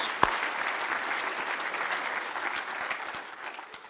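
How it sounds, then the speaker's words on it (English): Audience members at an annual legislative breakfast give a big round of applause, steady dense clapping at an even level, with one sharp clap near the start and a slight fade toward the end. "So let's give them all a big round of applause."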